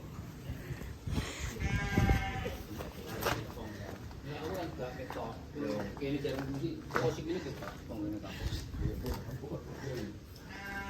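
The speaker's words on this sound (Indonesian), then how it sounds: "Oh, tuh kambingnya tuh guys." Goats in a livestock pen bleat repeatedly, several animals calling in overlapping wavering cries close by, while people talk throughout.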